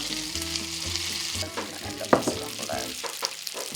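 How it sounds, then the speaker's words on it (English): Pasta is stirred into pancetta frying in its own rendered fat with black pepper for carbonara. A loud, close sizzle runs throughout, broken by a few sharp clinks and scrapes of the spoon against the pan. "I'm just stirring in the pancetta on all those lovely natural oils that came out of the fat"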